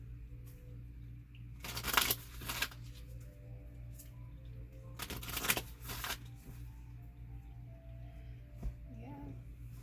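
Tarot cards shuffled in two distinct bursts of riffling, each lasting under a second, close and crisp over a steady low background hum.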